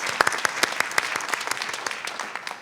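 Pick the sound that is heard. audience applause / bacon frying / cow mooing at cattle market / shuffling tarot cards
audience applause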